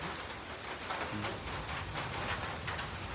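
Steady, faint rain falls outdoors with a soft, continuous patter and scattered drop taps throughout, heard from a distance with no voices.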